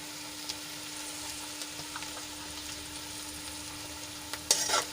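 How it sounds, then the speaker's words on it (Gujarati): Onions and potatoes sauté in a pan with a steady, even sizzle throughout, broken by faint scrapes and ticks of stirring, then a brief louder clatter near the end as tomatoes go in. "ડુંગળી અને આપણા બટેટા થોડાક સંતળાઈ ગયા છે તો હવે એમાં આપણે ટમેટા એડ કરી લઈશું"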